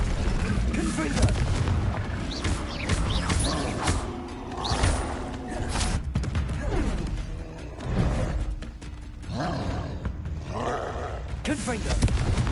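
Repeated Confringo blasting curse explosions in Hogwarts Legacy combat, a dense run of booming blasts and roaring bursts spread across the clip, mixed with other spell effects and game sounds.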